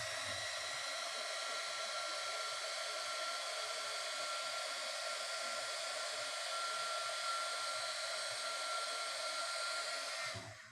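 A heat gun blows steadily and alone for about ten seconds, shrinking 1/4 inch heat shrink tubing over a right-angle pancake TRS plug, a constant close airy roar that cuts off abruptly at the end.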